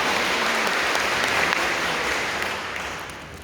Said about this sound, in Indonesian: Tepuk tangan Tuhan Yesus baik.